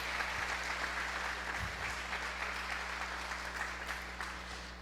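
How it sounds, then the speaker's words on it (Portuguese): A church congregation applauding mothers, a steady wash of clapping from a crowd that holds at an even level for several seconds and then slightly fades, heard from within the room. "A gente pode dar uma salva de palmas para as mamães aqui na igreja?"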